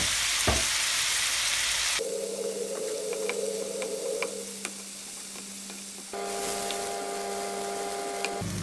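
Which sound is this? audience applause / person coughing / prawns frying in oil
prawns frying in oil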